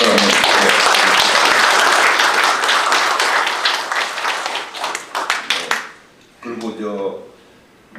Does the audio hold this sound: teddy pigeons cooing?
no